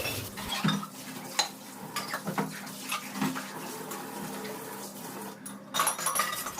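Dishes, pots and utensils being scrubbed and washed at a home kitchen sink, with repeated clinks and clatters of metal cookware over steady running tap water, loud and close.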